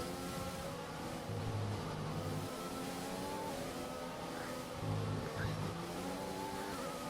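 Race car engine from the F1 2020 video game, droning steadily with tonal revs rising and falling as the car is thrown through an S-section of corners, close and continuous with no talk.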